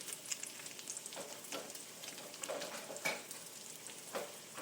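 Bacon frying in a pan, a quiet, crackly sizzle with scattered pops and spits, no voices over it.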